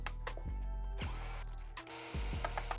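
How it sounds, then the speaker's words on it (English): A screwdriver turns out the underside screws of a Onewheel GT electric board's foot pad, giving a few close, faint ratcheting clicks and scrapes in a quiet room. "I'm going to remove these 2 foot pad underside screws"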